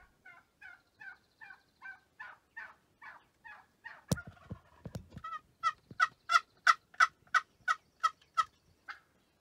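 A wild turkey hen chirps in a steady series of rhythmic, evenly spaced notes, pausing briefly before resuming louder and closer.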